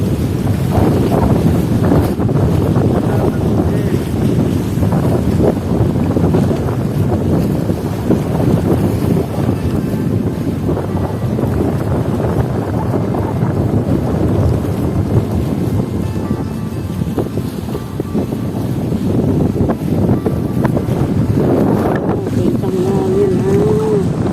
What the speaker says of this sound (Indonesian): Kencang anginnya, kencang sekali.